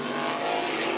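Vintage sprint cars race three wide into a turn at Meridian Speedway, a loud, steady roar of engines filling the air without a break.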